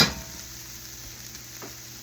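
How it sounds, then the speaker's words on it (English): Sausage sizzles softly in a pan as it dries out, a steady crackly hiss after a brief clatter at the start, with no voices. "Starting to sizzle."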